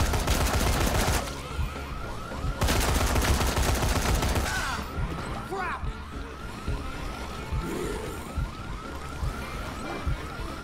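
Gunfire erupts in the video game Dead Rising 3 inside a gun store, with dense rapid bursts of shots at the start and again near three seconds, then scattered shots, impacts and game noise amid a busy mix.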